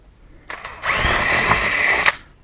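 A power drill with a small bit boring through a door during a digital code lock installation, a loud steady high whine lasting just over a second after a brief start-up burst, close and without talk.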